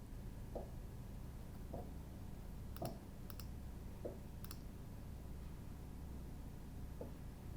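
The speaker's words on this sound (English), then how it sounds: "select both of these, right click, and then hit synchronize" A computer mouse clicks a few times at an editing desk, soft isolated clicks spaced a second or so apart over a steady background hiss, with a brief double click in the middle.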